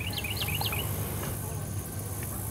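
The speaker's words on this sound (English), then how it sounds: "That's a Carolina wren." A Carolina wren sings at a Florida wildlife drive, a few quick repeated chirping phrases at moderate distance over steady low background hum, with a voice speaking faintly in the background.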